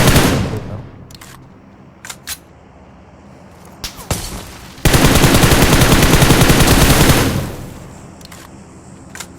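Gunfire in the PUBG Mobile battle royale game: scattered single sharp shots, then a sustained automatic burst lasting a few seconds before more isolated cracks.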